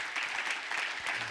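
Audience applause during a Spanish-language evangelical church service, a short burst of steady clapping from a congregation that sounds moderately close and fills the whole moment without speech.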